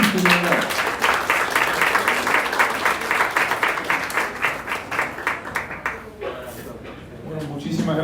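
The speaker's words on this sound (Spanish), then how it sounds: "Pido a todos un fuerte aplauso para recibir al doctor Rafael Alejandro Espín Andrade." An audience breaks into sustained applause to welcome a doctor to the stage at a business analytics talk, with steady dense clapping that fades out after about six seconds.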